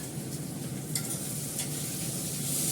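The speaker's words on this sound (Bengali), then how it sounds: "এখন এটা ভাজা হয়ে গেছে পেঁয়াজটাও।" Onions frying in a pan, a soft, even sizzle heard close and alone for a few seconds.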